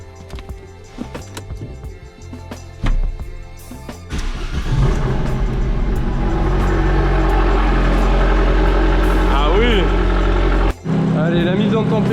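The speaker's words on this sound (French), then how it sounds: "pour la faire démarrer, pour voir si tout est OK, on va pouvoir être en route" Abarth 595 with a stage 3 tune starting up: mechanical clicks and a crank, then the engine catches and settles into a loud, steady close idle with a brief dip, while a person talks over it.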